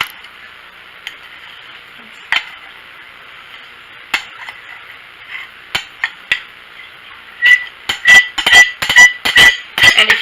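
A spoon stirs strawberries, sugar and pectin together in a jam pan, making faint scattered clinks and taps against the metal that quicken into a dense run of sharp knocks near the end.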